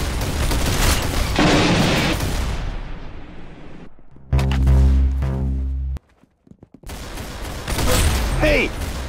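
Gunfire in the Arsenal shooting video game: dense, loud bursts of shots and booming blasts fill most of the clip, with a brief near-silent gap before another volley, while excited voices cheer over it.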